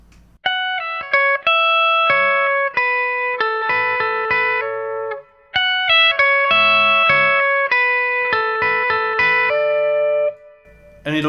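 Electric guitar part of a song, a bright chorus-laden run of quick picked and hammered notes repeated twice with a brief pause between, close and loud, with a voice starting at the very end.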